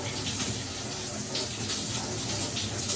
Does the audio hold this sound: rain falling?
no